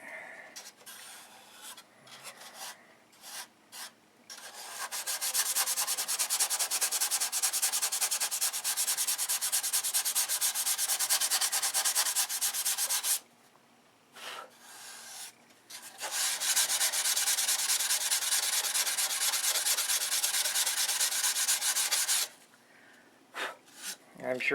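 Wood sanded by hand on a new build: two long stretches of steady, loud, close rasping strokes, separated and framed by shorter scrubbing passes and brief pauses.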